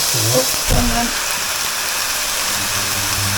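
Bacon dropped into a pan with softened red onion, giving a steady close hiss and sizzle that runs throughout, with a few brief clatters near the start.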